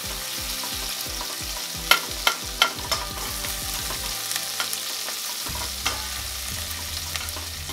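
Ingredients for bombil masala rice are stirred and fried in a pan, a close steady sizzle broken by rhythmic scraping strokes and occasional sharp clinks of the spoon against the pan.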